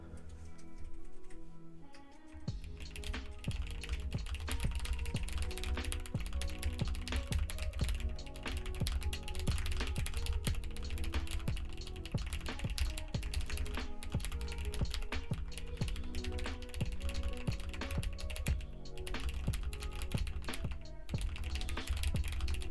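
Rapid, continuous typing on a computer keyboard at racing speed, dense clicking keystrokes running without pause over a steady background, close and fairly loud.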